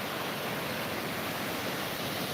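Ocean surf washing onto a beach, heard as a steady, even broadband rush with no distinct individual breaks and no voices over it.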